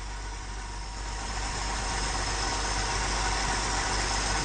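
A 1978 Ford F350 with the 4.9-liter (300) inline six and a freshly repaired Carter YF carburetor idling steadily, a continuous even engine drone with no talk.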